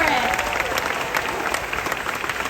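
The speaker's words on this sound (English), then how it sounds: "Let's give them another round of applause." A large crowd at a Disney's Hollywood Studios 35th anniversary presentation claps for cast members, with dense sustained applause and a few cheers filling the space and no voice over it.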